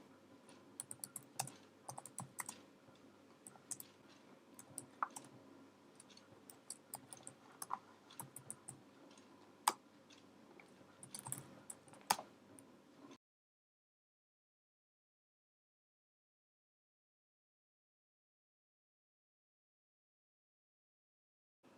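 Someone types a command on a computer keyboard into a terminal, with soft irregular key clicks and a few sharper taps over about thirteen seconds before the sound cuts to silence.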